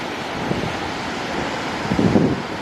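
Surf rolling in at Venice Beach, California, a steady broadband wash of waves with wind buffeting the microphone, swelling slightly toward the end, with no voices present.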